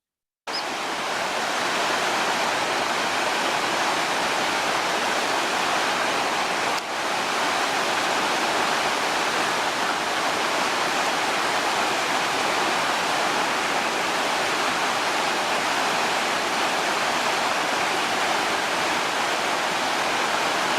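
Steady, full roar of the Sol Duc River rushing above Sol Duc Falls, a dense continuous wash of whitewater that holds constant for about twenty seconds with no voices.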